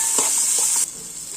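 Boiled, cleaned tripe pieces go into a sizzling pan, with a bright frying hiss and a couple of soft stirring thumps before the sizzle suddenly drops to a quieter hiss.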